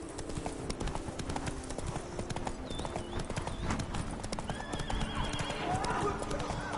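Roach, the horse in The Witcher 3: Blood and Wine, gallops with rapid, steady hoofbeats and snorts and neighs, while a voice speaks over the running.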